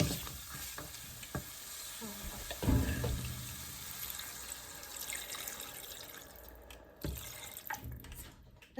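Water splashes and hisses into a hot pan of mutton curry, followed by steady sizzling and stirring scrapes, close up with no talking.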